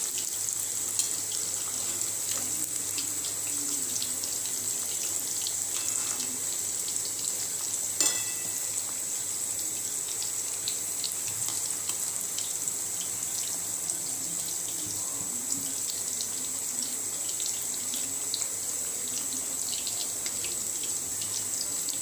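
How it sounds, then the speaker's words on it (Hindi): Chicken wings fry in oil over a slow flame, giving off a steady, even sizzle that hisses continuously with small crackles and no break. "स्लो फ्लेम में ही हमें 8 से 10 मिनट तक इसे फ्राई करना है।"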